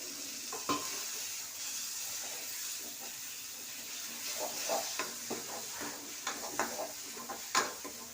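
Brain sautéing with crushed ginger and garlic in a pan, a soft steady sizzle with a hiss of steam, broken by scattered scrapes and taps of stirring that grow more frequent toward the end.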